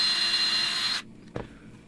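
An electric drill drives a hard bit into aluminum with a loud, steady grinding whine for about a second, then cuts off abruptly, followed by a single short knock in the quiet.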